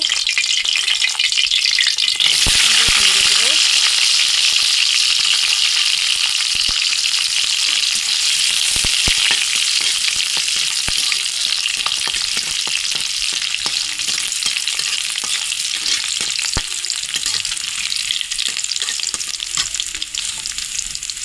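Garlic fries in hot oil in a wok, giving off a loud, continuous hissing sizzle with a few clanks and scrapes of stirring near the start.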